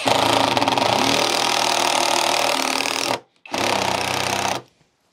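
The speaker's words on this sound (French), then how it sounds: "il suffisait que j'accélère un peu, que j'appuie un peu plus sur la gâchette pour pouvoir visser efficacement cette vis" An Einhell TE-CI 18 Li BL cordless impact driver sinking a long 5 mm screw with a PZ2 bit, heard as a loud, rapid hammering rattle that stops briefly, resumes for another burst and then cuts off, with no talking.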